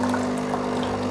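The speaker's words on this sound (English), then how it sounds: "pop a bit of water in" Water pours steadily for a moment into a cup of coffee over a constant low hum, close by.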